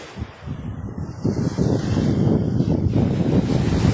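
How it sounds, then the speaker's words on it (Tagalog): Strong wind buffeting the microphone at White Beach, Puerto Galera, Mindoro, mixed with surf noise, a steady loud low roar building after a brief lull at the start. "Lakas ang hangin oh."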